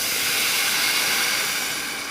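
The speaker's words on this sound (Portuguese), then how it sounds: "Agora eu vou juntar a água fervente." Boiling water, or vegetable stock, poured into a pan of frying rice makes a loud, steady steam hiss that holds for about two seconds and fades slightly at the end, with no talking over it.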